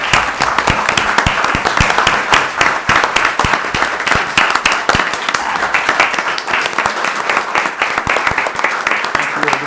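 Loud, close applause at a city council meeting in Albion, Michigan, dense rapid clapping from a roomful of people sustained at an even level throughout.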